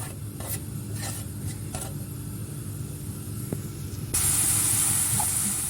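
Onions added to hot oil in a pan, a sudden loud sizzling burst that jumps in partway and continues as a bright steady hiss after a stretch of quieter clatter.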